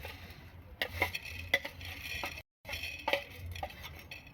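Lentils are dry roasted in a pan, heard as quiet scraping and clinking of a spoon stirring against the metal, with soft irregular knocks and a brief gap in the middle, faint and with no speech.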